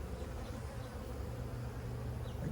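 Honey bees buzz in a dense, steady swarm as a colony is shaken from a nuc into a hive, a continuous low hum with no voices.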